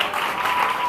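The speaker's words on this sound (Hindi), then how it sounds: "जिनको लगता है टीम ए जीतेगी तालियां बजाओ।" A school audience claps together in a steady burst of applause that lasts the whole short clip.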